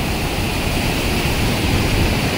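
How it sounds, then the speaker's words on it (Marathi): Randha Falls at Bhandardara roars as a steady, dense wash of falling water, loud and unbroken throughout with no voices. "हा वॉटरफॉल बघा फक्त तुम्ही."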